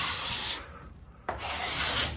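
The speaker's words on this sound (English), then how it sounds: "if I go across here, it just shaves it down really neatly" A sanding block rubs down excess epoxy on the wooden hull of a teardrop camper. Two long, close scraping passes are separated by a short pause.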